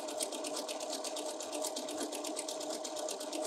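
A sewing machine running continuously while triple-stitch topstitching, a fast, even mechanical chatter of needle strokes with a steady motor hum, close and alone with no talking.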